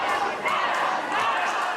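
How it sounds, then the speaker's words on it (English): A wrestling arena crowd roars in a steady, loud wash of cheering and shouting that surges slightly and never drops. "Listen to this crowd."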